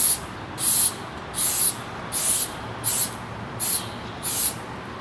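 Adhesive is sprayed onto foam board in seven short, evenly spaced bursts of hissing aerosol, each lasting about half a second, with near-silent gaps between them.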